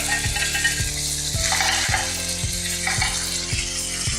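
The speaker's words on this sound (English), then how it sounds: "You're gonna hear a little snap, crackle, pop, that's okay." Clams hitting hot white clam sauce in a pan for linguine, giving a loud, steady frying sizzle with rhythmic crackling pops and clicks throughout, no talking.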